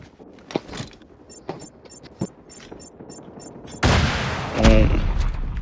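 COD Mobile multiplayer gunfire: scattered sharp shots at first, then a louder sustained burst of firing in the second half, with faint game sounds mixed in.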